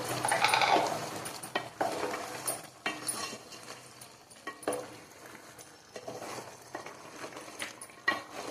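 A spoon stirs goat-head curry, just seasoned with chili powder and salt, in a pan. Scraping clinks and wet stirring sounds come close and fairly quiet, with a faint sizzle underneath.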